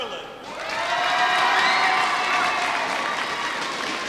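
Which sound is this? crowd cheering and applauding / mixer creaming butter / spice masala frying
crowd cheering and applauding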